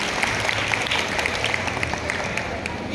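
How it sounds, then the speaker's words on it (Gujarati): Audience applause after a school Republic Day performance at Harekrushna International School, a steady wash of many hands clapping continuously at moderate loudness for the whole stretch. "આ પ્રસ્તુતિ માટે ફરીથી એમની માટે એક તાળીઓ થઈ જાય"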